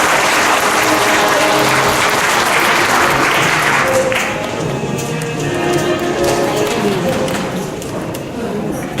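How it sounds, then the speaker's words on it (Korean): A concert-hall audience at a public talk event gives loud, dense applause to welcome a speaker, the steady roar of many hands filling the space and easing slightly near the end. "큰 박수로 맞이해 주십시오."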